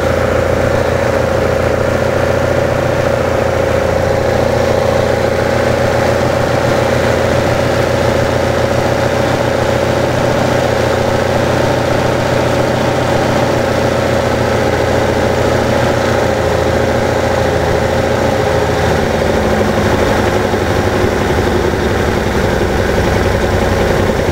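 Steady, loud idle of an engine fed by triple Weber carburettors, a constant low throb with an even hum that runs unchanged and close for the whole stretch.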